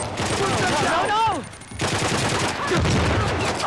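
Rapid bursts of Uncharted: The Lost Legacy gunfire crackle in a dense volley, pausing briefly before resuming, with descending whistling tones mixed in.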